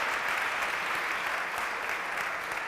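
An audience gives steady, dense applause for award winners at a port hackathon ceremony, heard at moderate distance and continuing evenly throughout.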